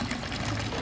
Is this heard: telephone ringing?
no